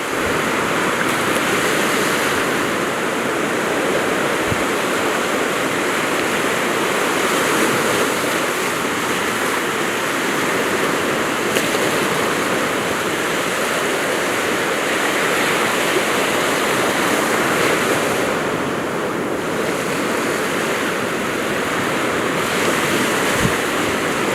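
Sea waves surge steadily onto Hwajinpo beach in Goseong on the East Sea, a continuous loud wash of surf with wind noise on the microphone and no talk.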